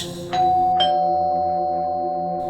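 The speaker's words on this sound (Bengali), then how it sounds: "কলিং বেলটা টিপল" A two-tone doorbell chime rings indoors in a Bengali ghost audio story: two clear strikes close together, each tone hanging on and fading slowly, with no voices.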